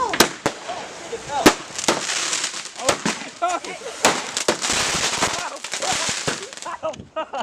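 Fireworks going off in a residential Iowa neighborhood, with repeated sharp cracks and bangs firing in quick irregular succession over about seven seconds, loud and close, with excited people shouting and talking throughout.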